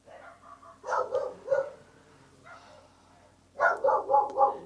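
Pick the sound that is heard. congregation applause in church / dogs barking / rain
dogs barking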